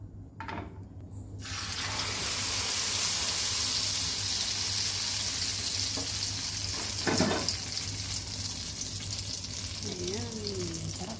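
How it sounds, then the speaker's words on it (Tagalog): Eggplant omelette, tortang talong, frying in a pan, a steady loud sizzle that swells after a quiet start and continues throughout with a few scraping stirs. "Saka natin siya i-fry."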